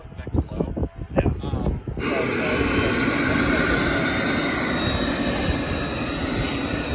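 Turbine-powered RC airplane spooling up and taking off from a small runway: a few seconds of clicks and bursts, then a loud, steady jet whine with rising high tones that holds to the end.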